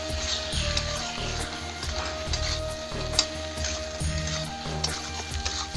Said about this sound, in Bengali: এটা একটু মশলাটা একটু কষাই নেবো